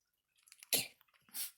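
A dog gives two quick, faint sneezes in a quiet room, each a short sharp burst of breath, the first stronger than the second.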